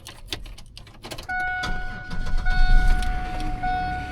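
An old car sitting in a junkyard cranks on its key and fires, settling into a loud running idle with a steady whine over the engine rumble; no one speaks.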